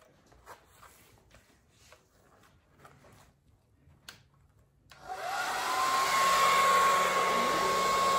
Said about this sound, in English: I'm going to really try my new hair dryer in this.